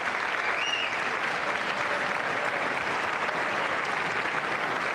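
Sustained applause from a large crowd honoring firemen at a State of the Union address, steady and dense clapping with a murmur of voices throughout.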